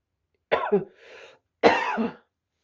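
Two close, rough coughs separated by a brief wheezy breath, loud and near, with no talk around them.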